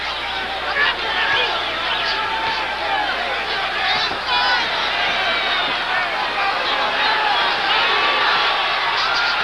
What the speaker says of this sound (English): The crowd anxious for Robert Quiroga to get back in the fight